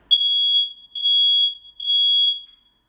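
A smoke detector sounds its test alarm while the button is held, giving three loud, piercing high-pitched beeps in an even rhythm, each about half a second long, then silence.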